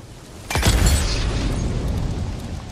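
A pipe bomb detonates against a bear in the video game Days Gone: one sudden loud boom, followed by a long rumbling roar that stays steady to the end.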